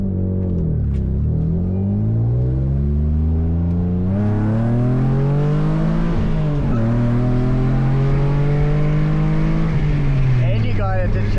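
A rebuilt 1991 Ford Taurus SHO with a 24-valve DOHC engine revs up and down from inside the car during a ride along, loud and close, its pitch rising, dipping and climbing again in sweeping surges.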